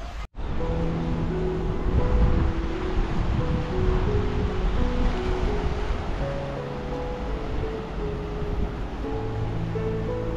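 Afternoon sea waves wash onto a rocky beach at a seaside campsite, a steady broad surf roar that stays loud throughout with low rumbling swells and no talking.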